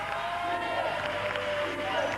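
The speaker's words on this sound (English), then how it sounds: "The crowd overjoyed." Crowd noise at an under-18 boys basketball semi-final in the Western Cape, a broad cheer and murmur from the stands running beneath a commentator's voice.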